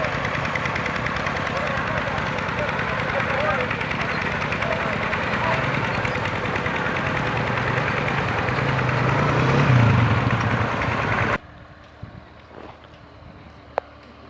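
Massey Ferguson MF 260 tractor engine running under load on an uphill pull, a steady close diesel drone that rises briefly before cutting off abruptly, with voices around it.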